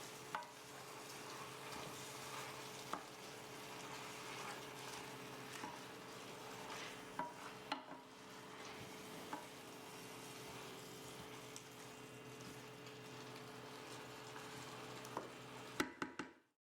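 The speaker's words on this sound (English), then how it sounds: "Stir to wilt the spinach and let it cook for 1 minute" Spinach wilting in a cooking pan while being stirred, a soft steady sizzle with faint scraping of the spoon, quiet and continuous, ending in a brief clatter.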